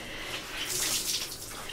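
A hot, steamed cloth rag is wrung out by hand, water splashing and trickling steadily into a basin or sink for under two seconds, close and fairly quiet, with no talking.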